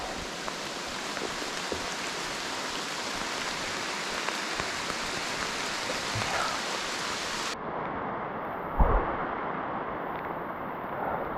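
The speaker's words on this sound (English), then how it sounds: "It is raining pretty hard right now" Heavy rain falling steadily during solo backcountry camping in Algonquin in fall, a dense, continuous hiss that stays loud throughout, with one brief nearby thump near the end and no voices.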